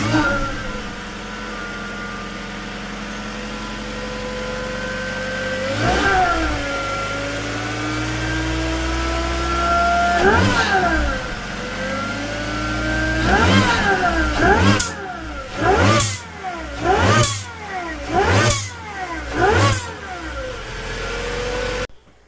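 Supercharged car engine fires up and idles with a high supercharger whine, then revs up several times, each burst climbing and falling, ending in a run of quick throttle blips with blow-off release, loud and close.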